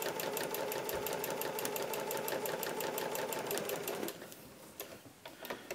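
A sewing machine stitches a quilt block in a steady, fast mechanical run for about four seconds, then stops, leaving faint handling clicks; no talking.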